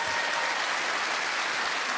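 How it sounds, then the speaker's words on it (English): Studio audience on a television comedy show giving a sustained burst of applause, a thick, uniform roar of many hands clapping with no break across the short stretch. "Round of applause for Kirsty"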